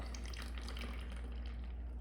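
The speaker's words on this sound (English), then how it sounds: "as we pour water, the water goes down and starts to come up, hits the 3/4 inch opening," Clear water pours steadily out of a 3/4 inch pipe opening in a drainage test, a constant close splashing flow with no talk over it.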